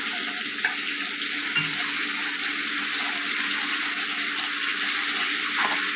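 A little water goes into a hot pan of turmeric and coriander powder for a bitter gourd and prawn curry, giving a loud, steady hiss and sizzle that holds throughout, with no talking.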